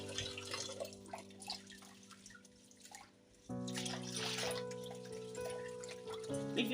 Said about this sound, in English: We are going to be washing our rice.